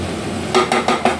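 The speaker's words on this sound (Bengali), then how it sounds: "এবার এটাকে আবার ভালো করে নেড়ে দিচ্ছি।" Utensil scraping and knocking against a cooking pot while stirring banana-flower curry (thor ghonto), a few distinct strokes spaced about a beat apart, close and moderately loud with no talk.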